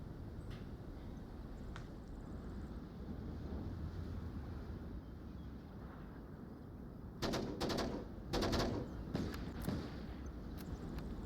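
Sharp bursts of gunfire from the VR shooter Onward during a competitive esports match, several clustered shots in the latter half over a steady windy background hum.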